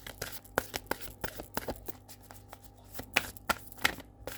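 Oracle cards being shuffled by hand, a quick series of crisp riffling slaps and flicks at irregular intervals, close and fairly quiet.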